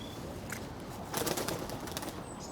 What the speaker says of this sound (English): Bloody pigeons.